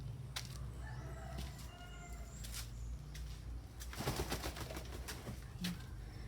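Chickens in a backyard garden nursery, clucking and a rooster crowing in scattered calls amid faint outdoor background noise, no voices.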